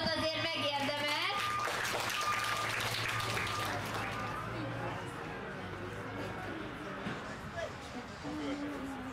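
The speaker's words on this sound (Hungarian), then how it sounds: "Egy tapsot azért megérdemel!" Applause from a crowd at an international log-pulling competition, steady dense clapping that runs the whole time, with cheering voices and an announcer talking over it.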